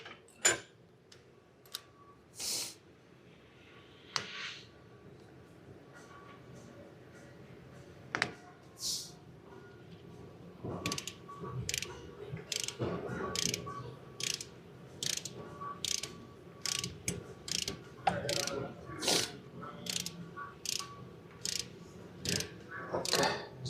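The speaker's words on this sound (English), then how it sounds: "Then torque it to 17 foot-pound." A torque wrench ratchets on a fuel injector bolt of a Hyundai Tucson during an injector replacement, giving quiet, close clicking strokes that start sparse and become a steady rapid series of ratchet clicks.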